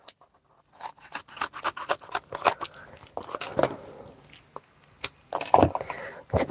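Scissors snip through card stock for a birthday card, a quick irregular series of crisp cuts and crackly rustles close up, with brief pauses, while a voice talks in between.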